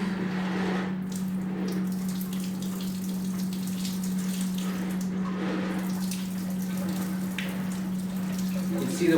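Water draining steadily from rinsed filter media from an Aquascape Aquagarden Mini pond kit, a continuous close trickle and splash like a running tap, with a steady low hum underneath throughout.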